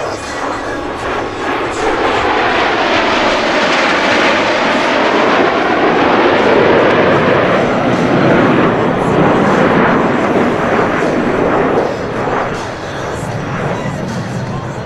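US Navy Blue Angels jets pass in diamond formation at a New York air show, a loud, sustained roar that swells and sweeps across with shifting pitch, filling the whole stretch with continuous jet noise.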